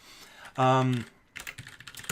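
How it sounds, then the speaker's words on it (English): Computer keyboard typing during a React JS programming session, a burst of clicky keystrokes following a brief tonal sound, moderately close and mixed with speech. "There I am typing what I'm saying again."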